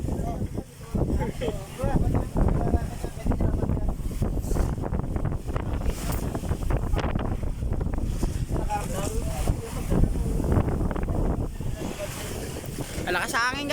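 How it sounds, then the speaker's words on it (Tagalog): Strong wind buffets a boat out at sea in rough weather, gusty roaring blasts on the microphone over water noise, with people talking throughout. "Malakas sa hangin guys."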